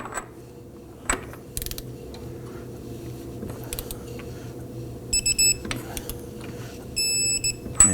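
A torque wrench tightens the front axle nut on a 2005-2009 Subaru Legacy with a locked rotor, giving quiet mechanical clicks and ratcheting close by, followed by a series of short, sharp repeated clicks as the wrench reaches torque.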